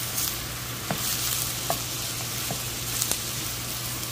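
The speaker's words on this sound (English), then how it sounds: "I'm gonna mix this together well" A spoon stirs a pot of lentil and farro vegetable soup, giving soft scraping strokes and a few light clinks over a faint, steady simmering hiss.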